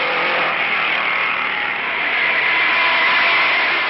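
Supercharged Novi V8 race car roaring down the straightaway at about 142 mph, a steady, loud engine drone that swells slightly toward the end, heard through old, band-limited recording with no talk.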